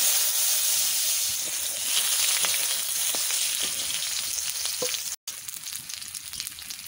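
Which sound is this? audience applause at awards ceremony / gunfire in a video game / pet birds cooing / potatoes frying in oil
potatoes frying in oil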